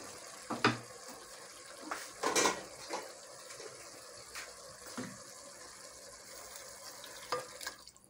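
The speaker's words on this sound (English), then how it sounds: "So me, I'll add in some water because of the kids." Water goes into a pan of fish stew on the stove with faint splashing, a few clinks of utensils on cookware and a soft sizzle in a quiet kitchen.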